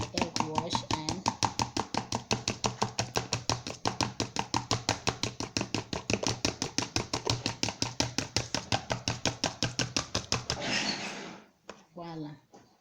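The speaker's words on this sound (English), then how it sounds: "Just keep whisking my egg wash" Rapid rhythmic whisking of egg wash in a bowl, a long even run of close, crisp clicking strokes that stops abruptly, followed by a few faint knocks.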